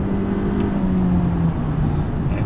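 A Honda Accord with a 1.5-litre turbo engine accelerating hard at full throttle, heard from inside the car as a steady, loud engine drone with a low hum that rises and holds, with no talking.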